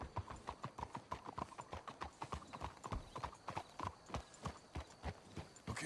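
Horses trotting in the video game Red Dead Redemption 2, a brisk steady clip-clop of hooves close by with a faint murmur of voices underneath.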